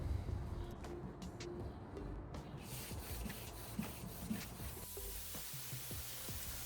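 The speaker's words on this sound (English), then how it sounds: "I'm using a 400 grit sanding sponge for the scuff sanding." Scuff sanding a polyurethane top coat on a nightstand with a 400 grit sanding sponge, a soft, close, continuous scratchy rubbing with rhythmic back-and-forth strokes, faint and steady throughout.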